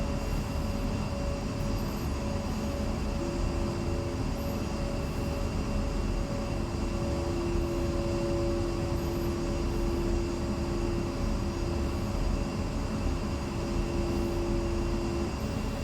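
An A-10C jet in the game DCS World rolls for takeoff, giving a loud, steady roar with a high turbine whine that holds throughout, no voices.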